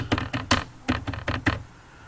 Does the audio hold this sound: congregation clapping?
no